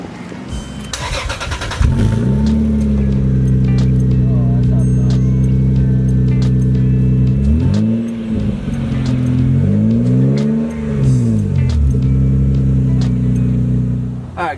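A 1996 Toyota Supra with the 2JZ engine cold-starting: a brief cranking whir, then the engine catches and settles into a loud, steady idle, with two rising revs partway through.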